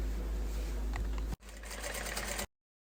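A sewing machine stitches pieces of a double-zip school pencil case together in a steady, close whir with a short break before it starts again.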